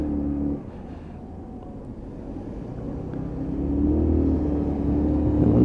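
Lexmoto Chieftain 125cc motorcycle riding through a roundabout, its engine droning steadily close by, then swelling into louder, rising revs as it accelerates out.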